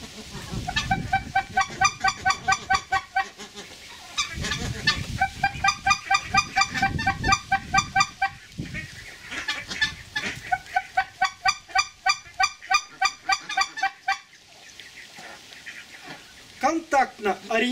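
White-fronted goose calls blown on a Schoolhunter Dominator goose call, bursts of rapid honking and cackling notes in clusters, with someone speaking between and under the calling.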